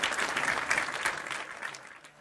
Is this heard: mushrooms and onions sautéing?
no